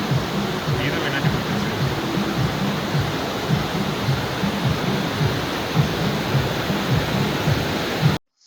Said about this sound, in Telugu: ఇది వచ్చేటప్పటికి మందాకిని నది ప్రవాహం అండి